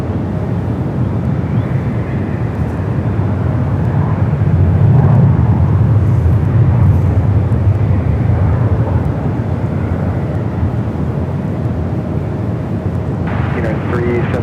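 An airliner touches down on runway 28 left at San Francisco airport, heard as a loud, broad roar of engines and rushing air that swells in the middle and then eases off.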